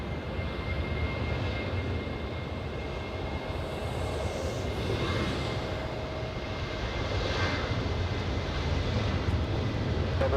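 An airliner taking off from runway 24 left at LAX, with a steady, loud jet engine roar that swells gradually and holds throughout, no voices.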